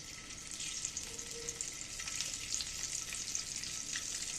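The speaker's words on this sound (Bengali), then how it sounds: "এবার আমি ডিমগুলো এক এক করে দিয়ে দিচ্ছি" Eggs sizzle and fry steadily in a pan of hot oil for an egg potato curry, a continuous crackling hiss with faint scraping, no talk.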